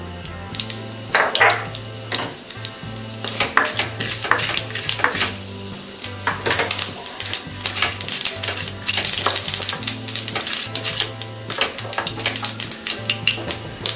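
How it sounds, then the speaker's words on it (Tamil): Mustard seeds and urad dal crackle and pop in hot oil with dense, irregular spluttering bursts over a steady sizzle, plus occasional metallic pan clinks and a faint steady background hum. "கடுகு உளுத்தம் பருப்பு பொரிஞ்சிருச்சு,"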